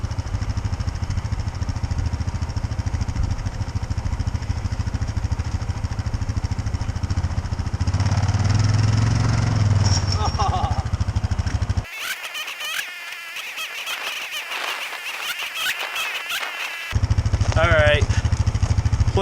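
A four-wheeler ATV used as a skidder idles and works loudly while pulling timber, its steady engine drone running continuously except for a quieter stretch near the end.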